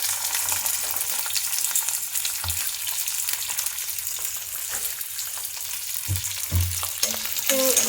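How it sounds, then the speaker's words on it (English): Capsicum frying in hot oil over a high flame, a steady dense sizzle running throughout with occasional stirring knocks near the end. "The oil is hot. To this let me first add the capsicum."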